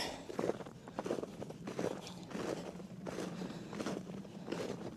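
Footsteps crunching over icy ground in a storm-hit garden, a steady walking rhythm of close, distinct crunches, fairly quiet, with no talk.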